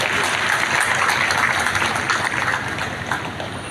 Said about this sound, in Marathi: जरा टाळ्या वाजवा.